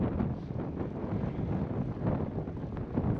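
Strong wind buffets the microphone near the Normandy bridge over the Seine on a cycling trip from Paris to Le Havre, a steady, loud broadband roar with gusty surges throughout and no talk.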